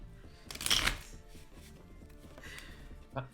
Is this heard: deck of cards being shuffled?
yes